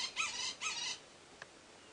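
Wild bird on a safari drive giving two short, high, bright calls in quick succession, faint and somewhat distant, followed by a tiny click in the quiet.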